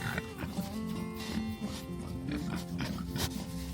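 Pigs grunt and oink close by under a big apple tree on a pasture, a steady run of low snuffling grunts with people talking faintly over them.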